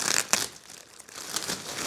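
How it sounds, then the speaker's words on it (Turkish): Short crinkly ripping of security tape being torn off a package holding a tractor bag, a couple of sharp bursts close by, with no talking. "Bu bant yırtırıyor arkadaşlar. Yırtırmadan açılmaz."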